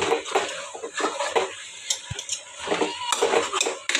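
A spoon scrapes and clatters steadily against a pot while ginger garlic paste is stirred into a mutton gongura curry, with continuous near clinks and a soft background hiss.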